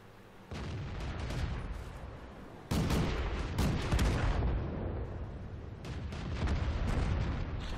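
Tank cannon fire in World of Tanks from a Lorraine 39L AM on the Karelia map: loud, heavy booming blasts over a continuous dense battle rumble, with sharp new onsets partway through and no voices.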